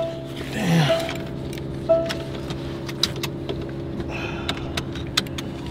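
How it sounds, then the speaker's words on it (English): A Mercedes-AMG GLE63S Coupe starts up: a brief swelling surge, then a steady low hum with scattered light clicks and ticks from the cabin and no voices. "You can go ahead, yeah, start up the vehicle."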